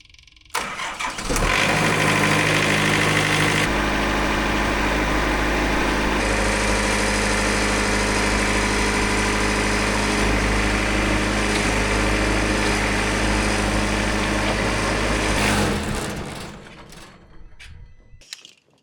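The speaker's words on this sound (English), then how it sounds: "if you have a sharp blade on this LT70, it plows through this poplar without any effort at all" An LT70 sawmill engine revs up and runs steadily under load while the blade cuts through a poplar log, a loud sustained drone that winds down near the end.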